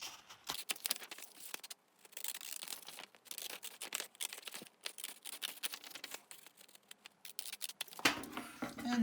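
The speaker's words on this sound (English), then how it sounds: "I'm going to cut the rectangular outline of this piece of paper out" Scissors cutting the rectangular outline of a paper template for a craft project: a steady run of quick, crisp snips and paper rustles, close and fairly quiet, with a louder crinkle near the end.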